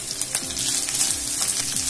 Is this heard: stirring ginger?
yes